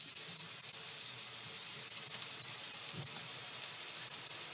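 Hands wash under a running tap, a steady close hiss of water with faint splashing variations, brief and without voices.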